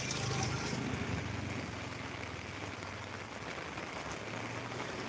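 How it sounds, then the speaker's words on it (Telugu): Heavy rain pours steadily over Velchala village, a dense, even hiss of falling water that fills the scene without pause, with no voices over it. "ఇది వెల్చాల గ్రామంలో ప్రస్తుతం కురుస్తున్న వర్షం"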